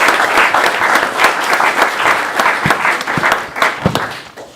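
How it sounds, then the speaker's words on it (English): An audience at a Board of Education meeting applauds a high school baseball team, loud, dense clapping that holds steady for several seconds with a few sharper claps standing out, no talking over it. "round of applause for these guys"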